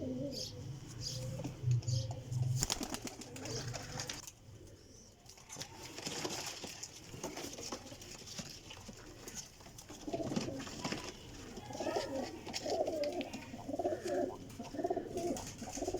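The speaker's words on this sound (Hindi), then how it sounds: "बहुत ही अच्छा कबूतर है माशाल्लाह।" Pigeons, including Teddy and Sialkoti breeds, cooing repeatedly in soft, low rhythmic calls, with occasional chirps and a brief flutter of wings against steady background noise.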